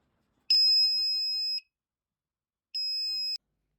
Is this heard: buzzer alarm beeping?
yes